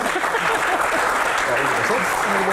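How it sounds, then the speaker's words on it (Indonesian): A steady burst of crowd applause, clapping densely and evenly throughout. "Tepuk tangan dulu."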